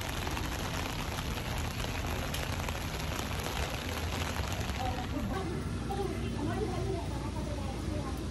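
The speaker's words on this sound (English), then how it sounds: "It's raining" Rain falling outdoors at a busy spot where people are lining up, a steady broadband hiss of drops that stays constant throughout, with faint voices and activity mixed in beneath it.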